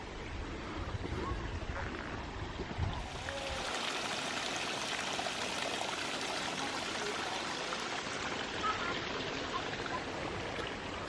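Stream at Trengwainton Gardens near Penzance flows steadily with a continuous close rushing and trickling of water, with no pause throughout.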